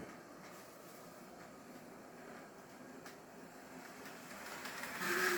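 An HO scale model locomotive running with a fault, giving a steady mechanical whir and rattle that grows louder and harsher toward the end, close by with no talking.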